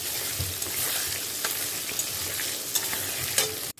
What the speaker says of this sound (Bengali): বেগুনগুলো দেখো হালকা হালকা ভাজা হয়ে গেছে।